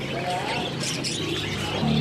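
Parakeets at a Pramuka bird market chirping, a mix of thin tweets and calls over a low background hum, with a faint voice near the end.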